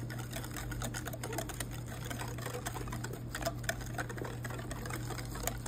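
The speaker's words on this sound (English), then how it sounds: "Using our balloon whisk" A balloon whisk stirs two cups of regular rice flour into batter for Thai fried bananas, giving a steady, rapid run of light clicking and scraping against the bowl, close and continuous with no talking.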